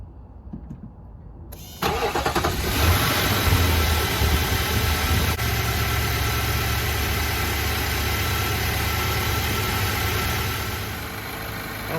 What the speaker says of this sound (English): you guys want to stay right there and see if it starts?